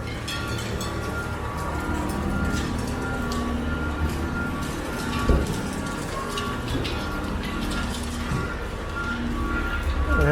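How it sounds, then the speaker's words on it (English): GO commuter trains passing each other rumble and clatter in a steady wash of rail noise, heard from a distance with city background in downtown Toronto. "couple of GO trains passing one another."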